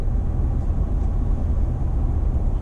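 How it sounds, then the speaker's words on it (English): A 2021+ Ford F-150 Tremor with the 5.0 V8 and a Flowmaster FlowFX muffler gives a steady, deep exhaust rumble at close range, an even idle with no pauses and no talk. "I have to use the actual key fob to start it"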